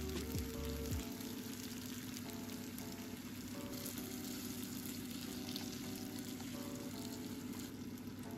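Mushrooms sizzle steadily in a hot pan while being cooked for a creamy chicken dish, a soft continuous frying crackle with faint stirring, no talk.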